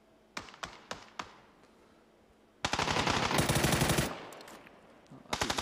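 Rapid automatic gunfire in a PUBG match at a competitive esports event: a few single shots, then a long dense burst, a pause, and another short burst near the end, loud and close.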